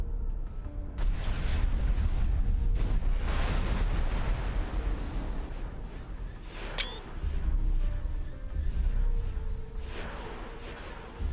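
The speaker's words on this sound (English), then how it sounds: "Explosion imminent." Booming explosions in the space game X4, a sustained loud low rumble with several heavy bursts and a sharp high zap partway through, with no talk.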